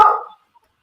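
A single short bark from a dog, loud and close, cut off after a fraction of a second, then quiet.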